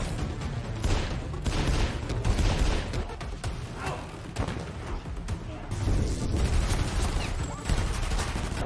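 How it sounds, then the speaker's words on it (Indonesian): Gunfire rattles through a film shootout as criminals exchange shots, a dense, continuous barrage of bursts and cracks with a voice faintly underneath. "sehingga terjadilah adu tembak-menembak di sana"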